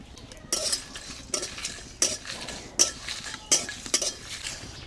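Whole spices such as dried chillies, bay leaf, peppercorns, cardamom, cloves, coriander, cumin, fennel, poppy seeds and peanuts being lightly fried in a pan, with a spoon scraping and stirring in about six separate strokes over a faint sizzle.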